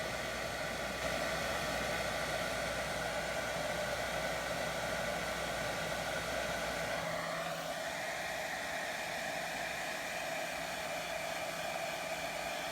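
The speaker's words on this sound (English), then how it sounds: "So we're going to blow dry this." A hair dryer blows steadily and loudly throughout while drying a watercolor floral painting, its whooshing airflow shifting slightly partway as it moves over the paper.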